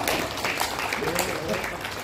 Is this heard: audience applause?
yes